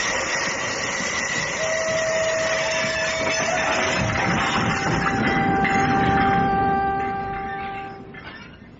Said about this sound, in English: When does this train stop? It doesn't stop. It's straight through to London.